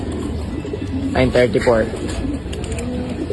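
Racing pigeons cooing at a loft during a race, a short burst of soft throaty coos in the middle over outdoor background, with people talking nearby.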